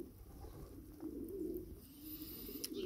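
Pigeons coo in low, soft, rolling calls at close range outdoors, a continuous gentle murmur with faint background noise and no talking.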